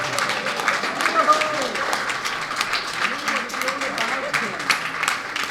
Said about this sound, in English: I think Teacher Kim deserves a bigger round of applause.